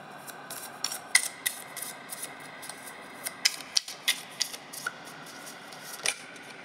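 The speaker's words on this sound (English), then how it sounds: "Too many cards. Let me shuffle them one more time." Cards are shuffled close by, with a series of crisp riffling snaps and light flicks coming in irregular bursts.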